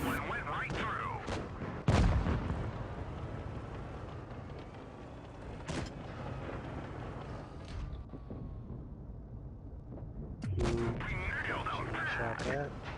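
Tank cannons fire in a World of Tanks Blitz platoon battle: a few heavy booming shots spaced several seconds apart over a rumbling game background, with a voice talking at times.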